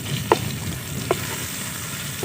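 Garlic-ginger paste frying with golden onions for Lahori murgh cholay, a loud steady sizzle broken by a couple of sharp spoon clinks against the pot.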